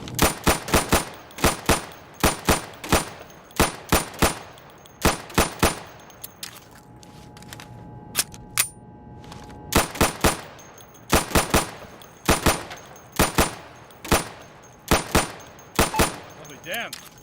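Gunfire at targets in the video game Insurgency, sharp rifle shots in quick bursts of two to four with short pauses, a quieter gap in the middle, loud and close.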